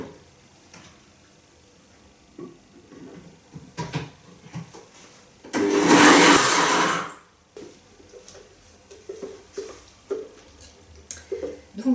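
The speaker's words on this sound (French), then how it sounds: "là je l'ai fait dans un blender" A blender whirs loudly for about a second and a half, blending homemade houmous made without chickpeas, a steady full roar set between quieter kitchen clatter and handling noises.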